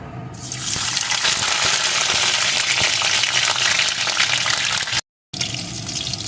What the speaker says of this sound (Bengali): লঙ্কাটা একটু পোড়া পোড়া করে ভেজে নেব